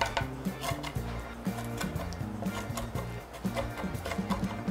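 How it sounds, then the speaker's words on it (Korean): A knife cuts through grilled, marinated galbi short ribs between the bones, with a quiet run of repeated clicks and taps from blade on plate and board, close by and soft. "고기를 먹기 좋은 크기로 뼈와 뼈 사이를 잘라낸다"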